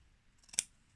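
A single quiet, close snip of scissors trims the leftover zipper tabs from a fabric zip purse, one brief crisp cut against near silence.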